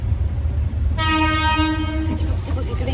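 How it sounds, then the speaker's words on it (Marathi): A train rolls past with a steady low rumble, and a loud horn blast sounds for about a second partway through while the rumble carries on underneath. "बघ ट्रेन चालली बघ."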